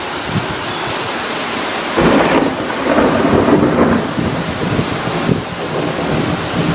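Heavy rain pours down in a thunderstorm, a loud steady hiss of downpour with low rumbling swells of thunder rising and fading; no one speaks.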